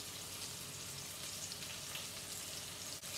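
Lean ground turkey meatballs fry in added oil, giving a continuous, even sizzle with a faint crackle throughout.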